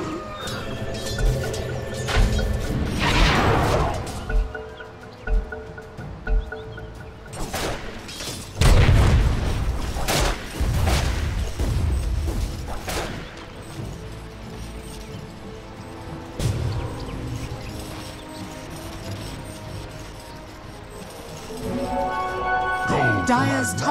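Dota 2 tower under attack: deep booms, crashes and impact hits from the siege keep landing amid layered game effects, with an announcer-style voice speaking at points over the battle noise.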